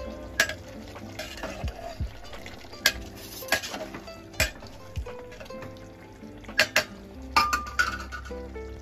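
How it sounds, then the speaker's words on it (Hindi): Boiled mutton being stirred with spices in a pot for aloo gosht korma, with scattered clinks and scrapes of a spoon against metal over a soft sizzle, fairly quiet and close. "बॉईल किया हुआ मटन ये पूरा इकट्ठा डाल देंगे एक साथ में इसे अच्छी तरह से मसालों के साथ मिक्स करेंगे"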